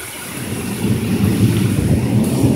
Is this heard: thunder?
yes